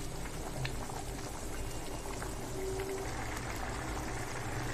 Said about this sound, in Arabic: عايزه كمان شويه نسيبه بقى يغلي شويه